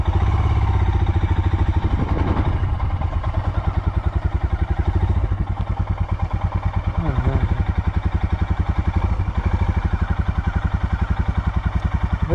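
Loud, close Royal Enfield Himalayan adventure motorcycle engine chugging at low revs in a steady rapid pulse, sputtering slightly as it crawls along slippery black marl mud at about 1.5 km/h.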